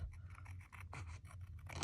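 Scissors make a rapid series of crisp snips and blade scrapes while trimming a tiny piece of paper for a mini altered composition book, close and quiet with no voices.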